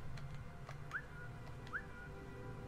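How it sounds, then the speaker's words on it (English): A character in the video game Velvet Assassin gives two short rising whistles about a second apart, clear over a low, steady background rumble. "She has a whistle button!"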